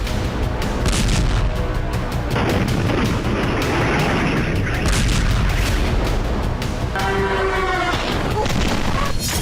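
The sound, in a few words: explosions from attacks, war news footage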